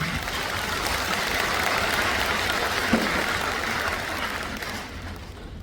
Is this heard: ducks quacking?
no